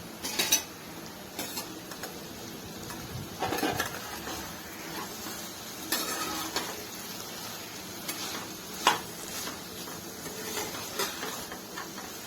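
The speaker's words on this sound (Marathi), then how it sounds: "भाजी परतवून घेऊया" A spoon stirs and scrapes dry potato sabzi in a pan over medium heat, giving soft intermittent clinks and scrapes over a faint sizzle, quiet and close with no talking.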